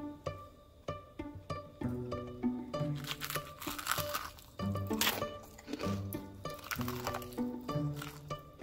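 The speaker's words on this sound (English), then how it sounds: "Listen to this crunch." Crunching bites into the hot, crispy fried crust of a chicken drumstick, loud and close, repeating in rapid crackling bursts with pauses between chews and no talking.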